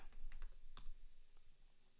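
A few quick keystrokes on a computer keyboard as a terminal command is typed, soft clicks in a short uneven burst near the start, then quiet.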